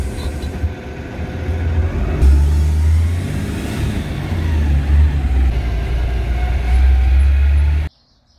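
A car pulls away and drives off, a loud low engine rumble that builds as it accelerates, with road noise continuing until the sound cuts off abruptly near the end.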